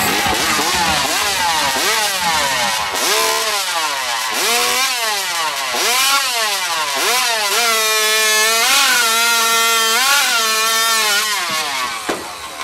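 A chainsaw cuts through wood in a competition at Saint-Célestin, its engine roaring loud and near, pitch swinging up and down repeatedly as it bites and revs before a final drop.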